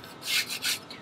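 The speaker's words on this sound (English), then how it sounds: "Usually I just set the tuning plate right on top of the trash can and just scrape this stuff off." Spatula scraping built-up gunk off an offset smoker's tuning plate held over a trash can, two or three quick rasping strokes, close and alone.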